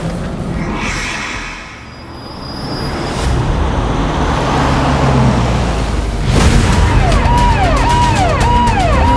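Police car in a chase scene turning and speeding away, engine roar building and staying loud after a brief dip, with a siren wailing in repeated rising-falling sweeps near the end.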